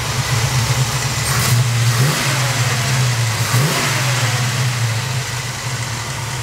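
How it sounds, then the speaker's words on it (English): A 1968 Chevy Chevelle with a fresh 350 small block, bored 30 over, revs steadily and loudly, its deep engine tone climbing and dipping in two clear throttle blips over a continuous rumble, with no talk. "I want to show you a 68 Chevelle, small block, 4-speed."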